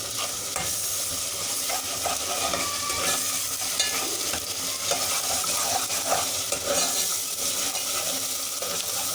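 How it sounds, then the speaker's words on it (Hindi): Garlic-ginger paste fries with onions in a hot pan, a steady dense sizzle running throughout with scraping stir strokes and small clinks, close and fairly loud with no talk. "अब हम इसके अंदर लहसुन अदरक डालेंगे।"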